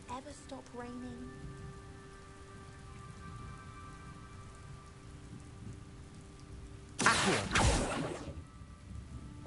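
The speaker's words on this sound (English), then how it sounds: "Will it ever stop raining?" Steady rain in Hogwarts Legacy patters continuously with low rumbling, a brief loud whoosh bursting in near the end, alongside faint tonal background music.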